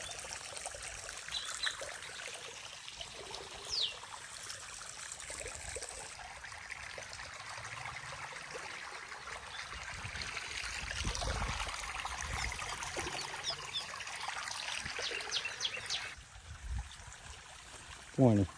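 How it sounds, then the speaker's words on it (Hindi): Water trickling and flowing steadily into a flooded rice paddy, a continuous close babble with occasional splashes; people talk faintly now and then over the stream. "पानी આવી ગયું ખેતરમાં"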